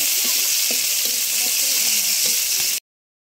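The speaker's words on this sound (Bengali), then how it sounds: "এই যে এখন ভাজি ভেজে নেব।" A loud, close, continuous sizzle of vegetable bhaji frying in a pan for a simple village breakfast, with no speech over it.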